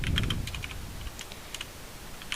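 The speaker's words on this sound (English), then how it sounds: "great typing right there" Typing on a computer keyboard: a quick burst of light key clicks, then scattered taps at an uneven rhythm, close and fairly quiet with no voices.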